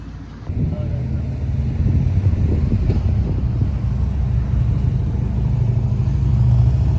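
A car driving, a steady loud engine and road rumble inside the vehicle that rises slightly and holds throughout, with voices talking over it.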